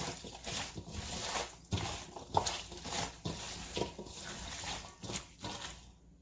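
Sliced napa cabbage with Thai chili and green onions is tossed by hand in a bowl, giving soft, wet squishing and rustling in a steady, repeated rhythm, close and fairly quiet.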